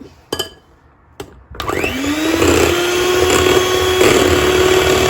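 An electric mixer whirs steadily through apple cake batter after milk is added, starting with a few sharp knocks before settling into a loud, continuous motor drone that holds to the end.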